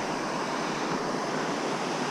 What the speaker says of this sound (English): We've made it to Horse Pasture River.